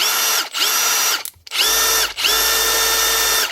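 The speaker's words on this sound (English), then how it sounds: "One Milwaukee M18 impact driver, cleaned out, washed out, running smooth again." Cleaned Milwaukee M18 impact driver running free after its gear grit was washed out, a close, loud, steady whirring whine in three bursts with short gaps between them.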